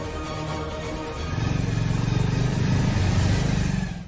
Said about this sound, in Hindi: चल जल्दी गाड़ी निकाल।